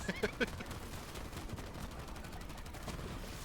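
A vehicle gunner seat in Borderlands 3 lets off a short, sharp burst of several rapid shots at the start, then a faint rumble of distant fire and game noise continues.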